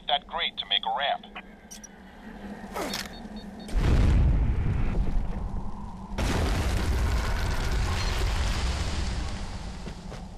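A spike grenade in the PS3 shooter Fracture erupting into a rising column of molten rock, a deep booming rumble that swells and roars for several seconds after a narrator's voice and small clicks.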